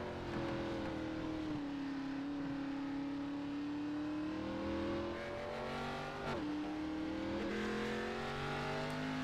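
Race car engine in a racing video game (Velocity Racing League Cup Series, Virginia 200) holding a steady high drone, throttle rising and easing with a brief lift near the middle, continuous and close with no talk.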